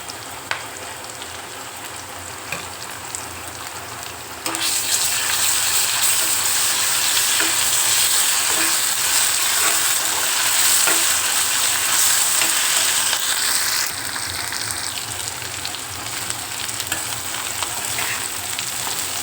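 Dry fish with ginger garlic paste in a pan: a quiet low hiss for a few seconds, then a loud, steady sizzle bursts in and crackles on with little letup before easing slightly near the end.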